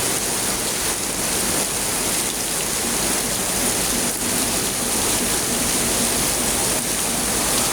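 Heavy rain pours down in a steady, dense hiss that stays loud and even throughout, with no voices over it.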